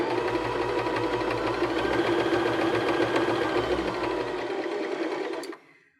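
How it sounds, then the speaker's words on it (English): A Baby Lock BL9 sewing machine stitching fabric, a steady close whirring hum with rapid needle clatter running continuously for about five seconds before stopping abruptly. "So now we can continue to sew."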